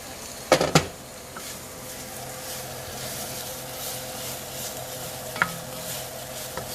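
Garlic and sausage frying in a pot for country red beans and rice, a steady low sizzle with a few sharp utensil knocks against the pot near the start and another later.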